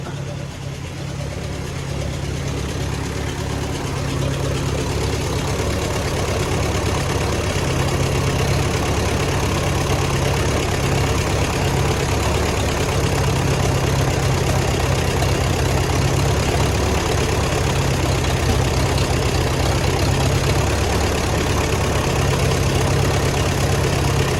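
An Allis-Chalmers WD tractor engine idles steadily and loudly throughout, a low continuous rumble with a slightly uneven beat, as if the carburetor needs adjusting.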